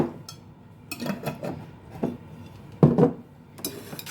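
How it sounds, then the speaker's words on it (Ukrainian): Dried mushrooms tumble into a bowl in a few short, light clattering bursts separated by quiet pauses, close by. "Відсипаю мисочку сушених грибів."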